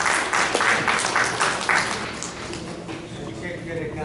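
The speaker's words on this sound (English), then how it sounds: "So we give her additional applause for being among 3 attorneys and holding her own." An audience at an annual convention applauding, a steady wash of clapping from a crowd that fades toward the end, with a voice speaking over it.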